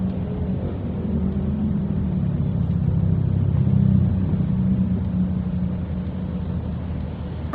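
A car engine rumbles low and steady while stuck in heavy road traffic on a rainy day in Manila, heading toward Ateneo Katipunan. The drone holds constant from start to finish, with no voices.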